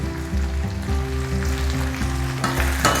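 Turmeric and coriander powder sizzle loudly in a small kadai while being stirred, a continuous close frying hiss with scraping strokes, steady throughout with no talk.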